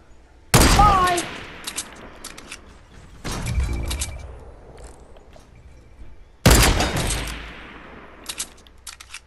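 Loud gunshots ring out in a video game, a sharp report near the start followed by two more heavy blasts a few seconds apart, each with a long decaying tail, with faint clicks in between.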